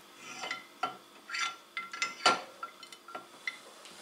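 Ceramic plates clink and clatter against the rack of a Midea MCFD42900BL mini dishwasher in a series of short knocks and scrapes, close and fairly quiet, with no talking.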